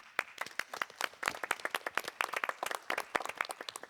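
A small audience of about twenty people applauding after a plant health round-table session, individual claps clearly separable, fairly quiet and close, with no talking.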